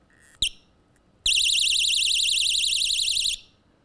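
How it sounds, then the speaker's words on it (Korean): A small handheld personal safety alarm sounds a piercing, warbling electronic siren that rises and falls rapidly. It opens with a short chirp, then blares loudly and steadily for about two seconds before cutting off. "불빛과 함께 경보음이 크게 납니다."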